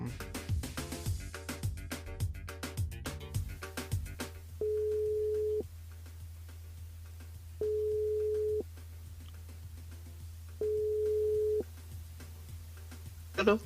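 Telephone line tone while a radio show host rings a listener, steady beeps repeating about three times at even intervals, following a stretch of rapid clicking and dialing sounds.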